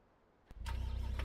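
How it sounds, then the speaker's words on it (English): A car engine in a community-built vehicle in a video game cranks and then fires into a loud, steady, pulsing idle. The camera sits close to the exhaust, and no one speaks. "Sounds like a misfire."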